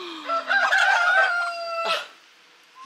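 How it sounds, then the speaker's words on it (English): A white rooster crows once, a drawn-out, strained call close by, followed by a brief rustle. "And that's the white rooster."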